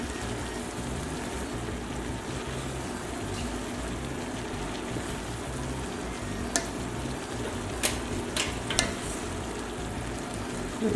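Food for pasta e fagioli frying and being stirred in a pan, a steady soft sizzle running throughout with a few sharp utensil clicks near the end, close but fairly quiet, with no talking.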